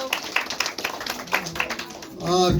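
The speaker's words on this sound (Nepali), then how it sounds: "उहाँलाई पनि हामी ताली बजाएर स्वागत गर्छौँ" Scattered hand claps ring out at a Christian wedding ceremony as the bride's parents are welcomed, a handful of uneven claps over roughly two seconds with a voice speaking over them.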